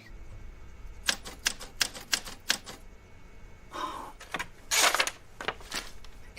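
A typewriter's keys strike in quick, irregular bursts of sharp clacks, with a heavier flurry and what sounds like a carriage movement near the middle, heard close and alone without any voices.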